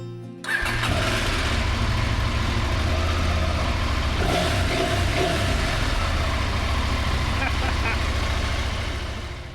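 A motorbike engine starts abruptly and settles into a loud, steady, close rumble as the rider sets off on the road, holding constant with slight rev changes before easing off at the end.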